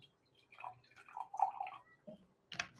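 A small amount of water is poured into a container for a paper chromatography experiment, making brief, soft splashing and trickling bursts in a quiet room, with a louder splash near the end.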